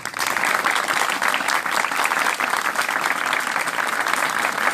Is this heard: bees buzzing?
no